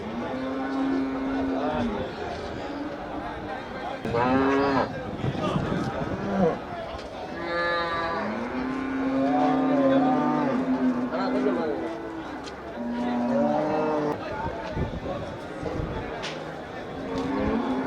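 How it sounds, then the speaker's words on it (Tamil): Cattle, including Sindhi cows, moo in long, deep calls repeatedly over a busy outdoor cattle market in Melapalayam, with people talking nearby throughout. "இது என்ன மாடுண்ணா இது சிந்து மாடு"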